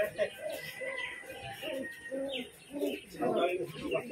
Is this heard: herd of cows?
no